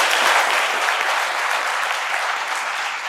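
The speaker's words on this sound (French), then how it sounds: "Je voudrais qu'on applaudisse ça." A big audience breaks into loud, thick applause, the clapping merging into a continuous roar that stays strong throughout and fades slightly toward the end.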